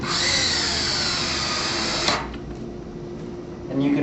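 A power drill whirs steadily for about two seconds as it drives a screw into a frame, countersinking the head, then stops, leaving low background noise before a brief faint whir near the end.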